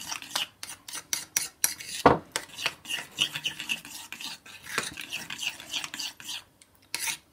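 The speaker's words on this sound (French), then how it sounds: "Et on va mélanger." Chocolate mixed with Espelette pepper in a bowl, a run of close, rhythmic scraping and stirring strokes with short pauses between them, fairly quiet and without talking.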